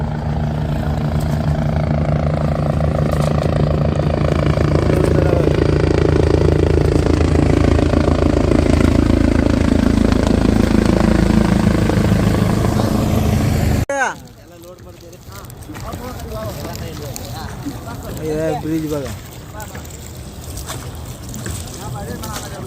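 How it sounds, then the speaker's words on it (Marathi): A helicopter's loud, steady rotor thrum fills the air for a long stretch at the 2025 Maha Kumbh in Prayagraj, then cuts away to quieter surroundings with people talking. "आता हेलिकॉप्टर आले बघा"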